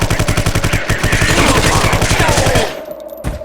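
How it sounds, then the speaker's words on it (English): Rapid, evenly spaced sniper rifle shots from the video game Vivisector: Beast Within, loud and close, a fast string of sharp cracks that stops abruptly near the end. "Stupid sniper rifle."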